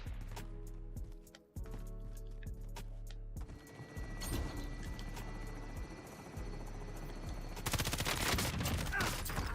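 Gunfire in Call of Duty Warzone with an M13 rifle: steady rapid bursts of automatic fire with sharp repeated cracks, growing into a dense, loud barrage near the end, over a continuous mechanical drone.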